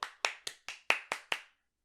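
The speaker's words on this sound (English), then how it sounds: "Hold for applause." Seven sharp hand claps in a quick, even rhythm, close and clear, then silence, cheering on a comedic pitch presentation; no one speaks.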